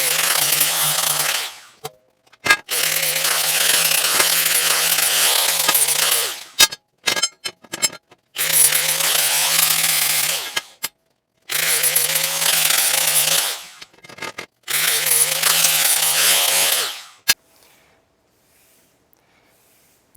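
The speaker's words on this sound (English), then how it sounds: "I'm gonna go ahead and just get these all cleaned up, deburred" A power tool whines loudly while cleaning up and deburring 3x6 heavy steel box tubing, running in long sustained grinding stretches broken by short stops and restarts, close up, before it winds down to near quiet.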